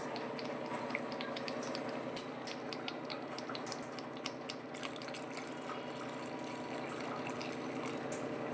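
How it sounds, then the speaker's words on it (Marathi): Hot water is poured into cooked dal with coriander, a quiet, steady liquid pour with faint clinking and stirring noises, close by and with no talking. "गरम पाणी केलेलं आहे ना, ते यामध्ये टाकायचं."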